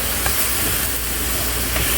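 Sausages sizzle in a pan after a splash of water, giving a loud, continuous steamy hiss that fills the whole stretch with no pause and no talk.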